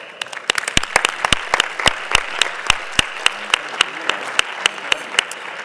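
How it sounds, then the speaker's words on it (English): Audience applause for interpreters at the World Heritage Committee session, a steady mix of many hands with sharp individual claps standing out in a regular rhythm, fairly close and sustained throughout. "So let's give them a round of applause."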